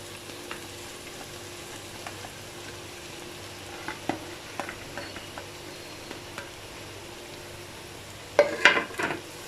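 Fried potatoes and cauliflower stirred into masala frying in a pan, giving a quiet, steady sizzle with scattered soft scrapes and a louder burst of clattering stirring at the end, with no voices.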